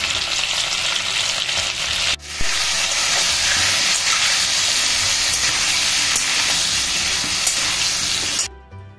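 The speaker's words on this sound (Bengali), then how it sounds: "এবার সেগুলোকে আমি একটু ভেজে নেব।" Mutton pieces and potatoes sizzle loudly in a hot pan with turmeric and salt, a dense steady hiss broken by a brief stir, then cutting off abruptly at the end.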